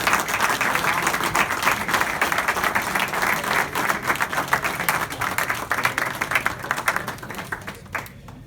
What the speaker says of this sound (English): just a big round of applause for all of our new officers.